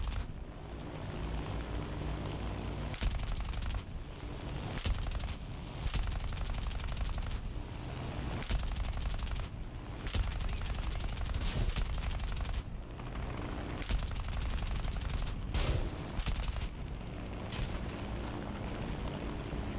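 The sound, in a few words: gunfire from aircraft guns in War Thunder video game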